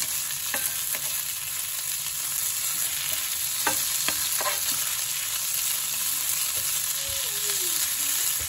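Hungry Jack hash brown potatoes frying in vegetable oil in a skillet make a loud, continuous sizzle close up, broken by several sharp spatula scrapes and taps as they are moved around.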